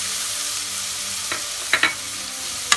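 Onion goes into hot oil with garlic and ginger, giving a steady soft frying hiss with a few sharp crackles and pops near the end, heard up close with no talking.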